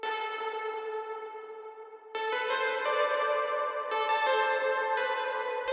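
A sustained synth melody for a melodic drum and bass track rings out through ping-pong delay and reverb: long held tones, then a brighter group of notes entering midway, no voices.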